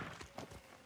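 Horse hooves clip-clop in the video game Ghost of Tsushima, a quick steady stream of hoofbeats close by over a dense wash of game ambience, with a faint voice in the mix.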